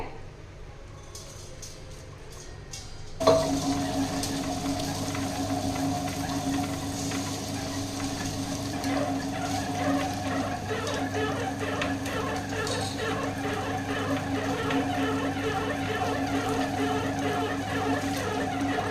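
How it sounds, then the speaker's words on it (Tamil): Wet grinder churning soaked barley and rice into dosa batter, a steady loud whirring grind that starts abruptly and runs continuously. "அதை தோசை மாவு பதத்துக்கு அரைச்சி எடுத்துகிட்டு வந்துடலாம்"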